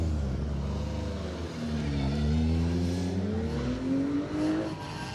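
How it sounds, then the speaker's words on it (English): A Mark IV Ford Escort 2-litre rally car drives in at a circuit rally stage, its engine rising and falling through the gears as it approaches and pulls through, loud and fairly close with no voices. "Ian Broadfoot and David Rowley in the Mark IV Escort 2 litre making their way in as well"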